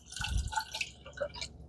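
Water splashes and gurgles into a pot for a brief stretch, nearby and moderately loud, with drippy bubbling tones and no speech.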